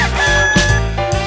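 A rooster crow appears in a children's farm animals song, a loud sung or synthesized cock-a-doodle-doo phrase repeated in short pulses over a sustained musical backing.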